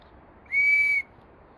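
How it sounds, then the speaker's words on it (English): A single clear, high-pitched whistle from a handmade willow bark whistle, blown steadily for about half a second, loud and close, with faint background noise before and after. "the whistle I've just made came off the end here"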